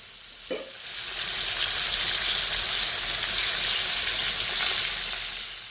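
Fish submerged in hot vegetable oil fries with a loud, steady, bright sizzle that starts almost silent, gets a brief clunk near the start, then holds a constant crackling hiss to the end.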